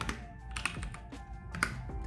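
Close computer keyboard typing for a ToDo list app in HTML, CSS and JavaScript, a brisk run of clattering keystrokes with a few heavier key hits.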